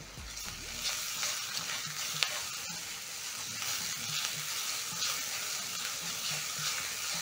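Onions and garlic sizzle steadily in a hot pan while being stirred, a continuous close frying crackle with occasional scrapes and no voices.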